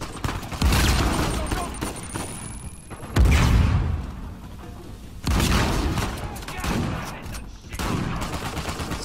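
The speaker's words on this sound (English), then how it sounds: "How did you not get affected by that damn gunfire?" Bursts of gunfire from a shootout in the Uncharted 4: A Thief's End video game, several loud volleys and booms in separate waves over about nine seconds, with talk mixed in.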